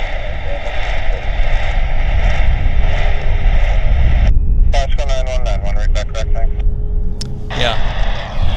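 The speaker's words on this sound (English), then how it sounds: "So we're going to get the Air North coming in here." An Air North airliner arriving at Vancouver Airport makes a loud, constant engine roar and rumble throughout, and a person talks over it partway through.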